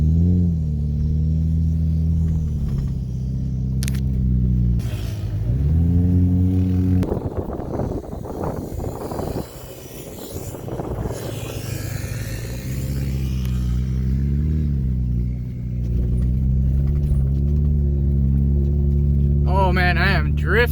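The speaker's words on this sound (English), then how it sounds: "Oh man, I am drifting around here." A Subaru drives and drifts across sand dunes, its engine droning steadily and loud throughout with rises and dips in pitch as it revs, plus a rougher burst of wheel and sand noise midway; a person talks over it.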